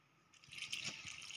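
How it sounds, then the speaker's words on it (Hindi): A small splash of water poured into a mixer jar holding red chilli and garlic for chutney, a faint, brief trickling pour lasting about a second, close by and quiet, with no talk. "अब हम इसमें थोड़ा सा पानी डालेंगे,"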